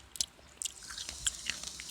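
Crunchy biting and chewing noises from eating in the Minecraft video game, a rapid run of short, sharp clicky bites without any talk.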